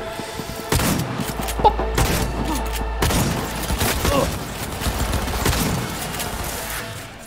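Shotgun blasts in Cyberpunk 2077, several heavy shots ringing out with crashes and impacts amid combat noise, with someone talking over the action.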